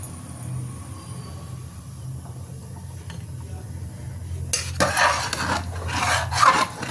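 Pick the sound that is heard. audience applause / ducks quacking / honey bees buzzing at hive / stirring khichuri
stirring khichuri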